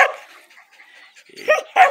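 A hunting dog eager to go yips and whines excitedly in short bursts, with a sharp bark at the start and two more near the end, close and loud.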